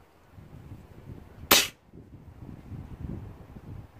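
A single sharp HW99S air rifle shot cracks out once, loud and close, over a quiet background with faint low ambient rumble before and after.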